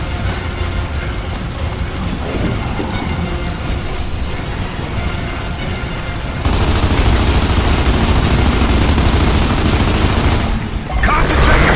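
Loud, sustained automatic gunfire and heavy explosive booms from the Xbox 360 shooter Gears of War 2, inside the Riftworm, in a dense unbroken barrage that grows even louder partway through.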